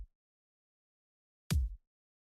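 A single deep kick drum thump lands alone after silence, short with a boomy low tail.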